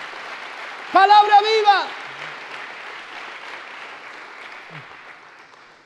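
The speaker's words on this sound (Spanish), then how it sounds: "Denle un fuerte aplauso a Jesús por esta su palabra" Applause fills a church after a preacher's loud exclamation, a broad wash of clapping that lingers and gradually fades away.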